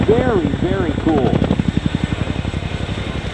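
Military rescue helicopter idling at an Oregon airshow in McMinnville, its rotors beating in a loud, steady rhythmic chop close by, with someone talking over the first half.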